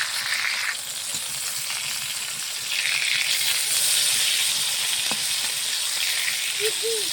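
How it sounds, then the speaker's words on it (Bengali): Fried eggplant sizzling in hot oil in a pan, a continuous close crackling hiss that swells slightly after being turned, with a faint clink or two and murmur of background voices. "বেগুনের ভাজাটা উল্টে দিই।"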